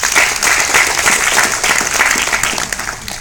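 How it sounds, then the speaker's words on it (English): Close, loud audience applause fills a semifinal competition hall, dense continuous clapping throughout with no speech over it. "give yourself a round of applause"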